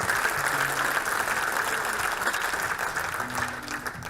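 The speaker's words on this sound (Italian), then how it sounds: "Facciamo un applauso per loro e per tutti gli altri." A large audience at an awards ceremony applauds steadily, a dense, even wash of clapping that holds at a constant level throughout, heard from some distance.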